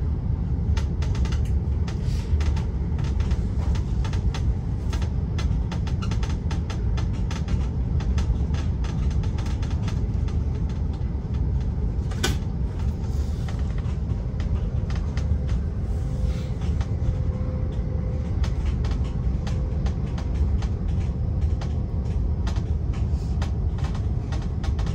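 A train rumbles steadily through Giessen railway station in Germany, a busy platform setting, with a continuous heavy roar and scattered clicks and clatter, loud and close, no talking.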